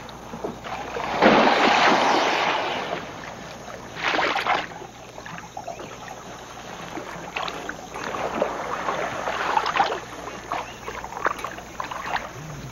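Paddle strokes pulling a small boat through water on a lake, with close splashing swishes at irregular intervals and faint wind noise in the background.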